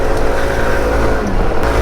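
A Sym Symphony ST200 scooter accelerating hard on a winter mountain ride, its engine droning loud and steady throughout, with wind rush and no voices.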